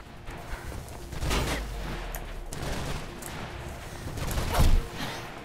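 Rapid bursts of full-auto pistol fire in the first-person game Mirror's Edge, with the gunfire swelling into heavy thumping volleys and one loud blast near the end.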